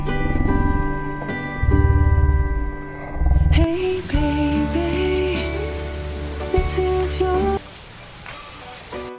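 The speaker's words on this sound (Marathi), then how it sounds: "पदा पदा पाऊस येत आहे" Steady rain patters throughout, close and fairly loud, while a tonal melody plays alongside it.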